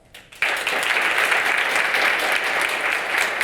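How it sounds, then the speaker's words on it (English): Conference audience at Hero Conf breaks into loud, sustained applause after a brief quiet moment, dense steady clapping filling the room without talk. "Give me your applause"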